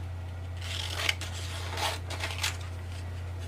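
Scissors cut through glossy magazine pages in a few short, crisp snips and papery rustles, fairly close, over a low steady hum with no talking.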